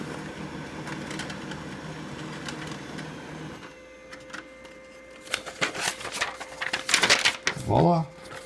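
A Brother HL-2240 series laser printer whirs and clatters through a test-page printing cycle after a stretch of low talk, with rapid mechanical bursts and a rising motor whine near the end.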